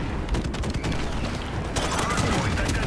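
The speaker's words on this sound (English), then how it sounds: "Friendly airstrike the enemy" Gunfire and explosions from a friendly airstrike in Call of Duty: Modern Warfare Remastered multiplayer make a loud, dense rattle of shots and booms that never lets up, and it gets brighter and harsher toward the end.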